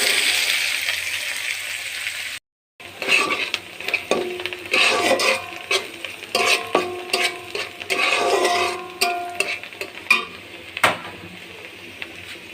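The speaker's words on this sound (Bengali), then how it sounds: "এবার আমি পেঁয়াজ ফুলগুলি তেলে দিয়ে দেব।" Onion flowers fry in oil with a continuous sizzle under frequent clattering of a spatula and utensils against the pan, close by and busy, after a brief silent break near the start.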